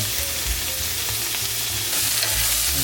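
Garlic sizzles and fries steadily in a hot pan with onion for chicken adobo, with a few light stirring clinks through a constant close sizzle.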